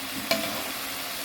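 Eggplant frying in a pan while being stirred, a steady hiss with one brief sharper scrape near the start.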